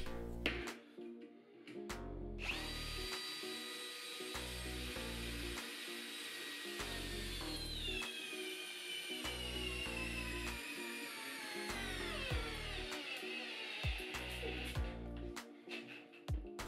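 A brushless Bosch GSR 12V-35 FC drill driver drives a long 10x200 wood screw, the motor whining in repeated loud bursts separated by short pauses, its pitch sagging under heavy load before it stops.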